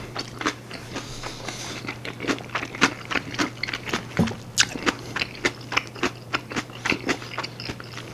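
A mouthful of tofu topped with kimchi being chewed close up, a long run of wet, crunchy bites and mastication sounds repeating in uneven rhythm over a faint steady hum.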